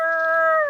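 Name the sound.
person imitating a big dog's bark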